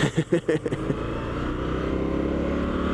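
An Indian FTR1200S motorcycle rides in standard mode, its engine a steady mid-pitched drone that settles into an even cruise after a few brief choppy bursts at the start, with someone talking over the first second.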